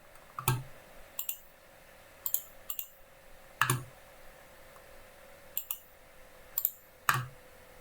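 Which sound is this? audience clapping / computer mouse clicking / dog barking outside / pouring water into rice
computer mouse clicking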